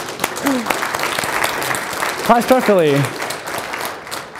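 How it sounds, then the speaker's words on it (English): Conference audience applause for a Python community group, a steady patter of clapping running beneath a voice as he speaks over it. "I'll give you applause."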